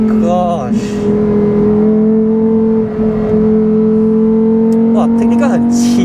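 A 2023 Lamborghini Huracan Tecnica's naturally aspirated 5.2-litre V10 on the Sepang track, a loud sustained engine drone holding a steady pitch with rising revs, heard from inside the car as a voice talks over it.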